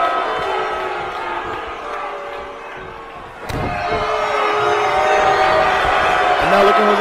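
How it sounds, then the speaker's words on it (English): Lucha Libre wrestling crowd chanting in a large arena, a rolling wall of voices with a sharp ring slam midway, heard alongside a commentator talking. "The Ole chants by the crowd here in Lucha Libre Mundial."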